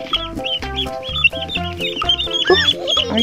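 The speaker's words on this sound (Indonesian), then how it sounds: "Tuh, ayamnya keluar" Chickens cluck and squawk repeatedly as they come out of a new coop, close and loud, with busy overlapping calls and some background noise.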